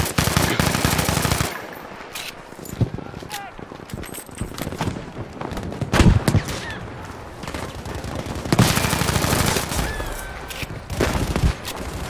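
Bursts of rapid M16A3 assault rifle fire crackle in Battlefield 5, loud and close, with sharp repeated shots in clusters separated by quieter gaps.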